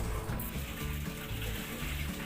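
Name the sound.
water running out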